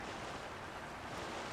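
A boat pushed by fans sails across a river in Zelda: Tears of the Kingdom, giving a steady, quiet rush of wind and water with no voices.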